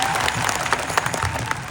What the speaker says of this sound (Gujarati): સંઘર્ષશીલ એવા આનંદભાઈ પટેલ સાહેબ માટે જોરદાર તાળીઓ પાડ લઈએ।